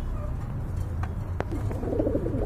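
Pigeons from a pair offered for sale coo softly in a low, rolling murmur over steady background noise, with no talk during the cooing.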